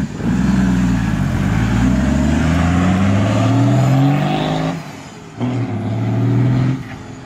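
A GMC Silverado turbo truck engine roars loud and close, a steady heavy drone that shifts in pitch, drops off briefly, then picks back up.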